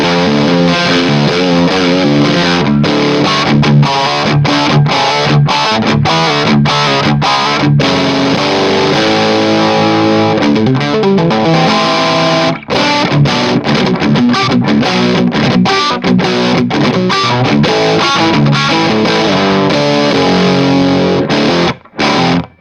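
An electric guitar runs through a Mooer Black Secret distortion pedal with the gain at noon and turbo engaged, giving loud, continuous, heavily saturated chords and riffs with only a couple of brief gaps and no talking.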